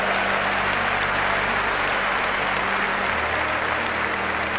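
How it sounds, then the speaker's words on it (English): A crowd gives a sustained round of applause for a woman at a motivational talk, a thick even wash of clapping that holds steady throughout. "Give her a round of applause"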